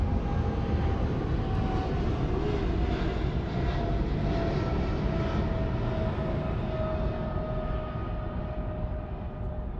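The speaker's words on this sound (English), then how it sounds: "Very, very steep early rotation on this 777 cargo from China Airlines." A China Airlines Boeing 777 cargo jet roars through a steep takeoff, a loud, steady broadband engine rumble that fills the whole stretch without a break and eases only slightly toward the end.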